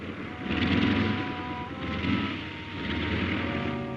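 A 1930s propeller airplane comes in to land, a loud droning engine roar that swells and fades in waves over a few seconds, with no one speaking.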